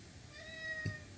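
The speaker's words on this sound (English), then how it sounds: "if you guys hear a cat in the background, that is George." A single short, faint meow from a cat, heard alone in a quiet room.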